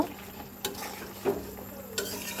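A spoon stirs cumin powder into a fish curry of nola fish with new potatoes and lentil dumplings in a pan, soft scraping strokes over a steady sizzle, a few clinks against the pan, no speech.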